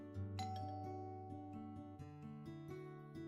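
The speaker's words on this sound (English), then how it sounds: "I hear my doorbell ring" A doorbell rings in the video game Love Curse: Find Your Soulmate, a bright chime with clear ringing tones that decay over a few seconds and sit above a soft background music bed.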